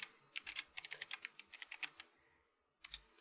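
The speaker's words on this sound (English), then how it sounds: "just type forex trade" Quick keystrokes on a computer keyboard tap out a search in a rapid string of clicks, pause briefly, then a couple more keys follow, close and quiet.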